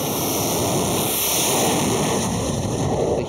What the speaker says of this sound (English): The heat from the engines, the sound, all of it is intense.